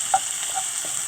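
Special fried rice with prawns is stirred and fried in a pan over very high heat, giving a continuous close hiss of sizzling with a few light scraping stirs.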